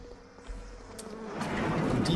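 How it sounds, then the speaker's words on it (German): Swarm of bees in the Bioshock video game, a faint buzzing hum that slowly swells louder over a couple of seconds, with a few soft clicks and no speech. "das sind viele Bienen."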